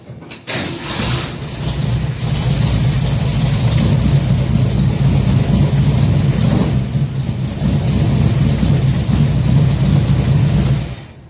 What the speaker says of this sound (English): Okay, I put a turn and a half on the fast idle screw.